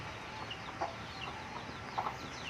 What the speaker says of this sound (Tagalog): May manok guys, oh. May manok.